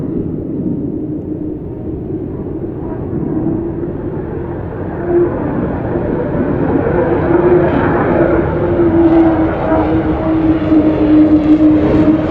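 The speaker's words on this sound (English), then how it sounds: "he will show the 5th generation smooth handling characteristics of the F-35B in STOVL flight mode" An F-35B jet hovering in STOVL mode in a flight simulator gives a steady, loud engine roar with a whining tone that slowly rises and swells, continuous and without talk.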